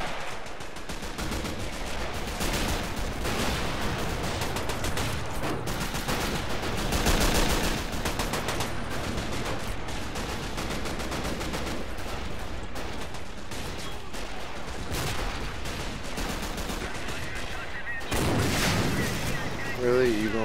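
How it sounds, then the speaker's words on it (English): A bunker opens fire in the WWII strategy game Men of War Assault Squad 2, with sustained rattling machine-gun bursts and heavy booms of battle throughout, loud and dense, with a voice talking over the gunfire. "the rear bunker is opening fire"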